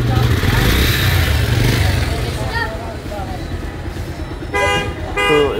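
Bajaj Pulsar 150 motorcycle just back from a full service at a workshop, its engine running steadily and loud up close, with a couple of short horn toots near the end.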